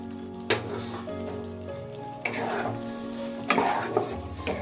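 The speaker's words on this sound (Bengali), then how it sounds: "সবজিটা যখন ভাজা শুরু হয়ে গেছে, আমি এর মধ্যে দিয়ে দেবো ভেজে রাখা সবজিগুলো" Vegetables for a paneer dish stir-fry in a pan, with a steady sizzle broken by several scraping stirs and clinks of a utensil against the pan, heard up close.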